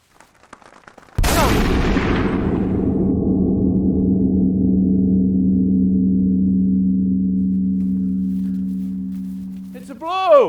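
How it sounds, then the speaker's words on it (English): A single loud shotgun blast fired while hunting outdoors, a sharp close crack followed by a long rumbling echo that slowly fades, with a faint sound rising at the very end. "That was a hell of a shot, son."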